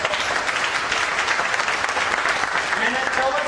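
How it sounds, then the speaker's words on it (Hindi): Loud applause from a crowd at a business seminar, dense continuous clapping filling the room with a faint voice or murmur beneath it. "जोरदार तालियां"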